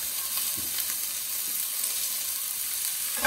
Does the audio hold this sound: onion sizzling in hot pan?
yes